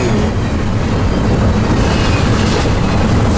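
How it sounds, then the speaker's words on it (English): A freight train with international locomotives rumbles past close by, a loud continuous roar of wheels and cars. Faint rhythmic clatter runs through it, and no one talks. "This is a pure international train"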